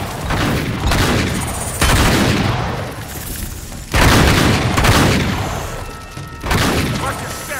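Sustained gunfire and booming impacts fill a chaotic firefight in Uncharted 3, with loud overlapping bursts and shouted voices throughout.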